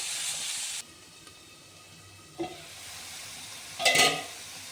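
Onions fry in a pan with a steady, close sizzling hiss, broken by a few clinks and scrapes of stirring, and no talking.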